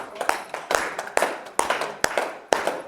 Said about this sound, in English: 4, and clap.